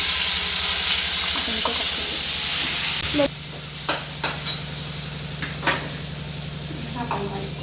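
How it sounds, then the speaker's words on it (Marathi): Ground masala paste frying in oil in a pan, a loud continuous hiss and sizzle with a few scraping stirs and clinks, heard alone. "संपूर्ण मसाला असा टाकलेला आहे आपण आणि आता याला तेल सुटेपर्यंत परतून घ्यायचं आहे"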